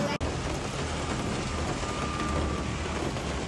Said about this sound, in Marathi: किती जोरात पाऊस चालू आहे बघा